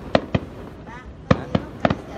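Fireworks bursting at a New Year's Eve celebration, five or six sharp, loud cracks at irregular intervals with brief gaps of quiet between them.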